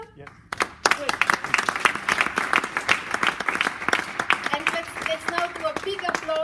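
Conference audience at the EFEX 2019 event bursts into sustained applause, dense overlapping clapping that starts abruptly and carries on steadily, with faint voices mixed in toward the end.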